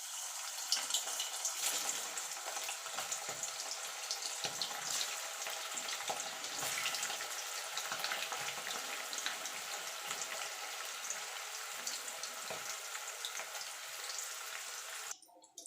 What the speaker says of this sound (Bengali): এবার তেলটা গরম হলে পনিরগুলো ভেজে নেব।